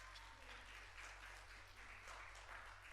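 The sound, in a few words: audience applause in a church youth service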